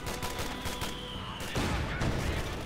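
Bursts of gunfire and machine gun fire from the Company of Heroes 2 battle, with an MG40 among the weapons, crackling in dense overlapping volleys that swell into a heavier, louder barrage midway through.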